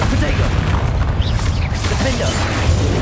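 Spell blasts in Hogwarts Legacy gameplay, a low booming Bombarda explosion and magic combat effects layered into a dense, continuous roar of battle noise with speech mixed in throughout.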